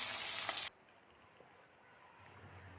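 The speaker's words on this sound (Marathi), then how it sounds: "तर डाळ सुद्धा आपण हलकीशी अशी परतणार आहोत." Soaked moong dal and garlic sautéing in a pan for methi bhaji: a loud close sizzle bursts for under a second, then drops to a faint low hiss.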